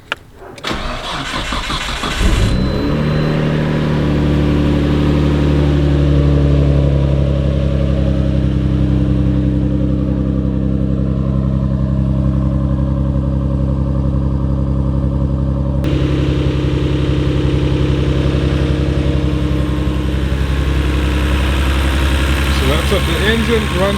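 A Nissan Skyline R32 GT-R engine cranks and fires, then settles into a steady, loud, smooth idle that holds close and even for the rest of the clip.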